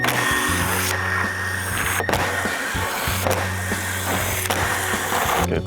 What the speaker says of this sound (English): we're going to start out by removing all the 10mm bolts underneath here